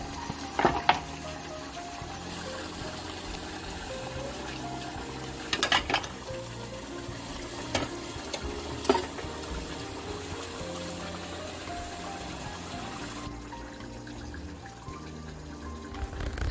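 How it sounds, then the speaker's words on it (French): A pot of makayabu salted fish sauce in Congolese cooking simmers gently with a soft, steady bubbling and sizzle, faint and constant, with a few brief clinks and knocks and no talking. "ma sauce de makayabu est en train de cuire petit à petit"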